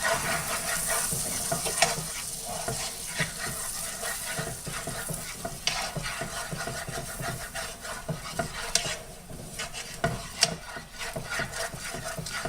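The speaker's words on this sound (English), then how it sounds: "Add the flour and start stirring it." Flour being stirred into a cheesy potato and andouille casserole in a pan: continuous close scraping and rubbing of a spoon against the pan, with a light sizzle and occasional sharper knocks, no talking.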